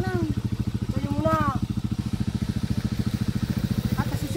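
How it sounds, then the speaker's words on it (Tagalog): A motorcycle engine idles close by in a steady, rapid putter throughout, with people talking loudly over it. "Ito kami sasakay sa motor"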